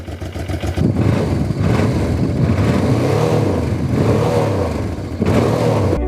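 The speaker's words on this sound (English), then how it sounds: "It's an aftermarket exhaust, so it's got a different tone, but it sounds pretty darn good." A Honda motorcycle engine with an aftermarket exhaust and a deep, throaty note runs loudly and steadily close by, revving up and down with a brief dip near the end.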